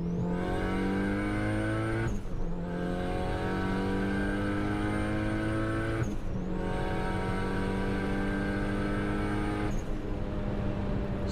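A 1998 Honda Civic VTEC turbo accelerates hard from 100 to 200 km/h on the autobahn, its engine note climbing steadily through three long gears, with brief drops at each shift near 2, 6 and 10 seconds, loud and close from inside the car.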